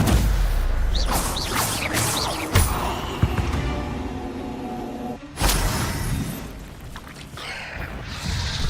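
A Stupefy stunning spell cast in the Hogwarts Legacy video game lands among dense, loud combat effects, with sharp whooshing bursts and booming impacts over a noisy rumbling bed.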